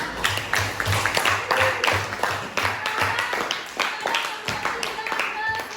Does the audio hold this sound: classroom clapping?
yes